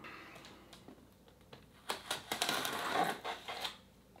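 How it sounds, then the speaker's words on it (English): Packaging of a Ryzen 9 3900X processor box being cut open, heard as a run of sharp crinkling, scraping and tearing sounds that grow louder and busier midway, close to the microphone. "Cut her open here."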